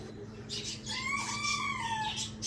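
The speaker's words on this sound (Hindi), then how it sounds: "इसके अंदर एक मुर्गा और 2 कुकड़ियाँ।" A rooster and two hens shut in a coop, with a drawn-out crowing-like call and short clucks over a steady low hum.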